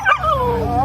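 A puppy gives a short, loud yipping bark with a high whimpering tone, close by and alone.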